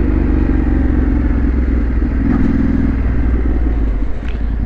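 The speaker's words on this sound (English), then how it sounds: "there's a fellow biker there, no idea who he is, but we'll give him a little bit of a wave as we go past" Motorcycle on a green lane heard from the rider's own bike, a steady loud engine drone throughout as another biker is passed, with no talk.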